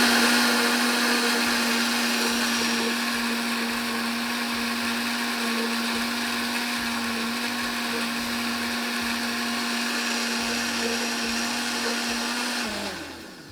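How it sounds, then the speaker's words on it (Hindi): A kitchen blender runs steadily for about thirteen seconds, mixing sweet dessert ingredients, with a loud constant motor whine that winds down at the end; no talking. "ये सारी चीज़ें डालकर हम इसको ब्लेंडर को चलाएंगे"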